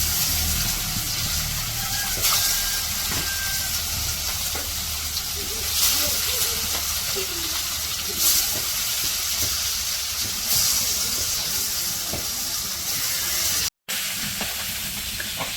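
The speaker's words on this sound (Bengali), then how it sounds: "তো ওই যে মাছগুলা দিয়ে দিতেছে" Fish coated in turmeric and chilli powder frying in oil in a wok, a steady loud sizzling hiss running throughout with brief clatters and faint voices underneath.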